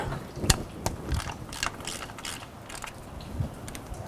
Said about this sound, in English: we have these special sockets that should be able to grab it